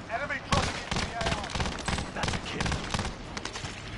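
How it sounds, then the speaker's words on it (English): Rapid gunfire crackles in a busy online shooter match, with several sharp shots and bursts coming close together over a steady noisy background, and a voice talking now and then. "I am getting sniped from behind."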